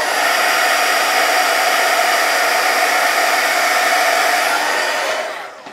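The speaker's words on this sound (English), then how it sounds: "go ahead and hit it with the heat gun again" A heat gun blasts a steady, loud, close rushing roar while melting embossing powder on gelli prints made on deli sheets, running continuously before cutting off at the end.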